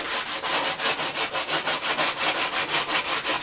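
Steady back-and-forth rasping of sandpaper on a splitboard edge, about five strokes a second, close and continuous with no voices.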